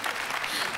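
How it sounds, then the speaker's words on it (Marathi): Enthusiastic applause from a studio audience at a Marathi comedy show, dense steady clapping filling the whole brief moment with no voices over it. "जोरदार टाळ्या"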